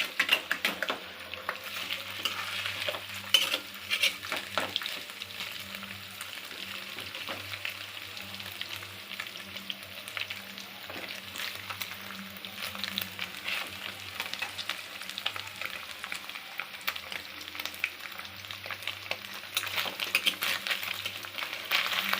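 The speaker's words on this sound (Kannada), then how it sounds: "ಸ್ವಲ್ಪ ಇದನ್ನು ಕೆಂಪಗಾಗುವಂಗೆ ಫ್ರೈ ಮಾಡ್ಕೋತೇನೆ" Paneer frying in a pan, a steady sizzle broken by frequent scraping and clinking stirs of a utensil, close and fairly quiet, with no talk.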